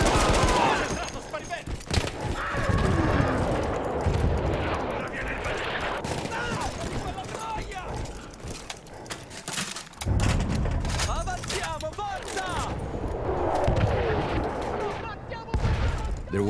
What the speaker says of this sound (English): There was an artillery gun that was shelling us and Matteo's unit.